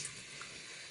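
Tap water runs steadily into a sink during an evening face rinse, a continuous close hiss with no pauses and no talking.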